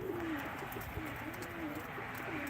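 Pigeons coo softly at a pigeon auction in Ankara, low repeated burbling calls close by against steady background hum, faint and continuous throughout.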